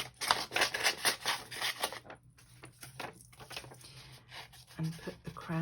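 Scissors snip steadily while fussy cutting a paper crown for a flippy flappy envelope journal, a dense run of close crisp cuts that pauses partway and then resumes more sparsely.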